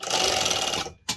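A Rex 708-2 industrial blind stitch sewing machine runs loud and close in a fast continuous whir, then cuts out briefly before a short restart at the end.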